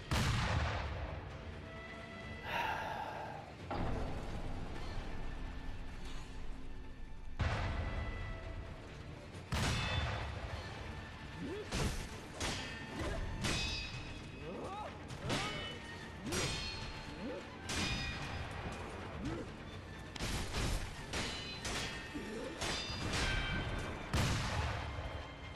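Enemy gunshots fired at the player in the video game Sekiro, repeated sharp blasts and booms scattered across a noisy game soundtrack, with a voice talking over them.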